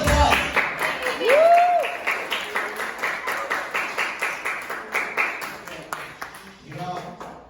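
A round of applause in a class, with steady rhythmic clapping that runs for a few seconds amid voices and chatter.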